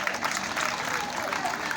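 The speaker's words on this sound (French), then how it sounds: "Je voudrais qu'on l'applaudisse encore." Applause from an audience at a school award ceremony in Gagnoa honoring a parent, steady dense clapping sustained throughout at moderate loudness, with some crowd murmur mixed in.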